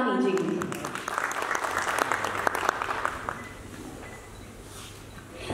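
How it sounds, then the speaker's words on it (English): Applause from an audience for a film producer stepping onto a stage at a promotional event, a dense burst of clapping that gradually thins and fades. "Let's give it up, everybody,"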